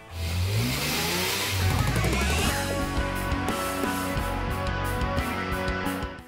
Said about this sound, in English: This particular car is equipped with the 318 cubic inch Dodge engine, along with the 727 TorqueFlite transmission.